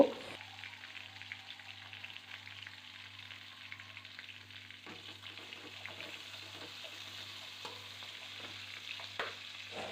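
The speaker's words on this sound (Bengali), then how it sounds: "নুন হলুদ মেখে রাখা বেগুনগুলোকে ভাজা করে নেব" Brinjal pieces coated in salt and turmeric fry in a pan with a soft, continuous sizzle and occasional stirring scrapes, fairly quiet and without speech.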